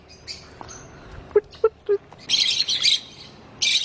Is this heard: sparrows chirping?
yes